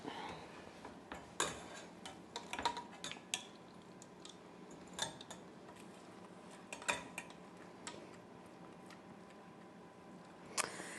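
A cooking mixture pushed and pressed through a metal chinois strainer, giving quiet scraping and clinking taps of a utensil against the mesh at an irregular pace, close and faint.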